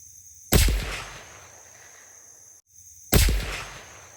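.308 rifle firing 178 grain Hornady ELD-X bullets at feral hogs outdoors: two loud, sharp shots about two and a half seconds apart, each trailing off in a rolling echo.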